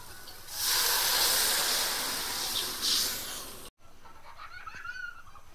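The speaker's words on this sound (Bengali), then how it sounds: "এবার মশলাতে আমি জল দিয়ে দেবো।" Water poured into hot frying masala for a rohu fish mustard-poppy curry gives a loud, broad hiss that swells for about three seconds, then cuts off to quieter kitchen background.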